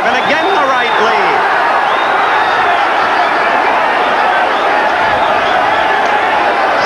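A boxing arena crowd at a 1979 WBA super featherweight title fight roars in a continuous, dense wash of cheering, with a commentator talking over it throughout.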